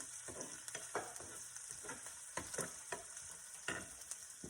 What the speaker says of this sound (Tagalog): lalagyan na natin yung garlic. Saglit ang gisahan lang ito guys